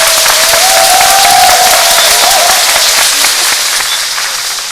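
A studio audience applauds for footballer Didier Drogba, dense clapping that holds for several seconds and slowly eases off toward the end, without speech.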